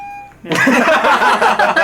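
A cat meows loudly and close by, a drawn-out, strained call that follows a brief tonal beep and fills most of the moment.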